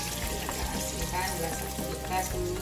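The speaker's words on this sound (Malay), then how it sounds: "dah kacau lebih kurang dua 3 minit kita goreng dia" Food sizzles and crackles in hot oil as eggplant and long beans are stirred and tossed in a wok, with scraping utensil sounds throughout.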